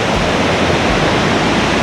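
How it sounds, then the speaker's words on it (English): A thundering waterfall in Snowdonia's Eryri National Park pours down in a steady, loud, close roar of rushing water that fills the whole moment with no breaks and no voices. "you can see the thundering water down here"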